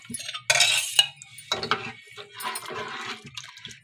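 Kadhi being stirred in a cooking pot, with intermittent metallic scrapes and clinks of a spoon against the pot, close and in short bursts separated by near silence.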